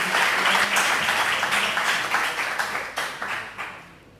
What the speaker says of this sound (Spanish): ya un fuerte aplauso, por favor, por Antonio Quirós.